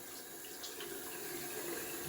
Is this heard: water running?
yes